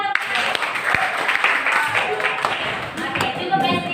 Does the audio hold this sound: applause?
yes